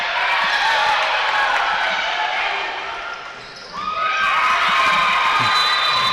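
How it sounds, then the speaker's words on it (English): A volleyball crowd and team bench cheer loudly during a college match between Rose-Hulman and Franklin, a sustained roar of shouts that dips briefly midway and then surges back up, dense and close. "the bench and the crowd making a lot of noise for Rose"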